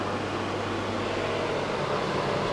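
A kitchen range hood fan, newly unboxed, whirs steadily with a constant airy rush and a low hum underneath, unchanging throughout, no one speaking.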